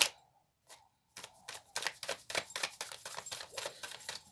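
Large tarot cards being shuffled by hand, a quick run of crisp papery riffling and slapping flicks after a few soft taps, close and fairly quiet with no talk.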